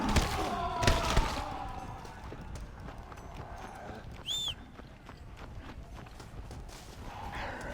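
A horse gallops in Red Dead Redemption Undead Nightmare, rapid thudding hoofbeats up close with a brief tonal game chime partway through.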